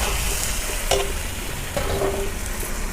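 Shredded cabbage tossed into a pan of fried spices for an Assamese recipe, sizzling steadily in hot oil while a spoon scrapes and stirs it in a few brief strokes, close and clear with no talking.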